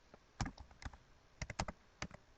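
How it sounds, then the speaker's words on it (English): Quiet close-up typing on a computer keyboard, several irregular bursts of quick key clicks with short pauses between them, no talking. "And then you just type something basic like, hey, you always want to use the person's first name."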